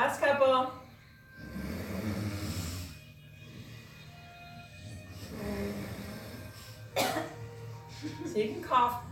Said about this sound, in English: So you can cough. Take a drink. Clear your throat.